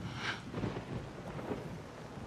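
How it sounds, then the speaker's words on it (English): A thunderstorm rumbles low and faint with soft rain hiss, a broad, steady wash of noise and distant rolling thunder. "It's just a storm."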